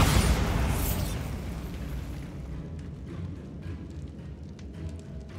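A Bombarda blasting spell bursts in Hogwarts Legacy gameplay, one loud booming explosion at the start that rolls off into a long rumbling, crackling decay, with no voices.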